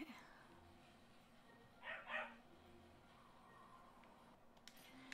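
Big, strange dog-like creatures in the video game Yonder: The Cloud Catcher Chronicles give two quick barks in close succession, set against a quiet, icy game ambience.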